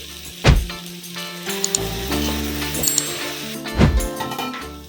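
Vegetables for veg biryani being stirred in a pot with chili powder, turmeric, coriander powder and salt, producing a light sizzle with a few loud spoon knocks and scrapes against the pan, close by.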